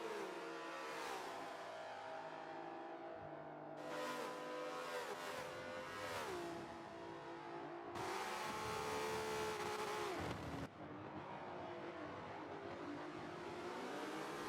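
Touring cars race at Bathurst in the Forza video game, engines roaring continuously with rising and falling revs as cars pass and shift gears, loud and sustained throughout with no talk.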